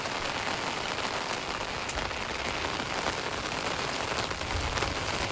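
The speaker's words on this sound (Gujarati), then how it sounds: "વરસાદ ફૂલ ચાલુ છે" Heavy rain pours steadily in a village, a dense, even hiss of drops drumming on surfaces nearby with no letup. No voices can be heard.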